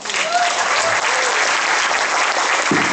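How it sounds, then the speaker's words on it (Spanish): Audience applause for a performer at a cultural event, steady dense clapping from a crowd held at full volume for the whole stretch, with faint voices mixed in. "Que se sientan los aplausos para nuestro compañero Nino Correa"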